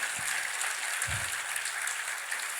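A church congregation applauds together, a steady, dense wash of clapping with a couple of low thumps beneath it.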